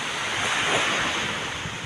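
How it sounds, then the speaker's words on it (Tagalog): Ocean surf off Infanta, Quezon, rushes in a steady roar, with gusting wind noise buffeting the microphone and no voices. "ito na yung alon mga idol, oh."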